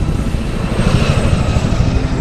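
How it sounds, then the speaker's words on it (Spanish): Helicopters in Medal of Honor Warfighter pass close and loud, their rotors throbbing in a dense, rapid thump over a heavy engine roar, steady throughout with no voices. "¡Los helicópteros! ¡Síguelos!"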